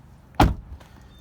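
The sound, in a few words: back door of a 2013 Chevy Malibu LTZ opening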